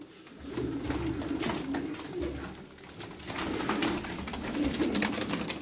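Pigeons cooing in a loft, a steady flutter of soft, throaty coos from several birds close by, with no voices.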